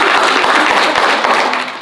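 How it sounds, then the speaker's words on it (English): Audience applause at a patient advocacy meeting, brisk and dense for just under two seconds, tapering slightly toward the end. "you can all applaud when you're ready."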